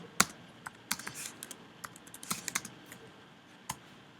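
Computer keyboard typing while writing HTTP client code, irregular clusters of close, crisp key taps with brief pauses between bursts, no talking.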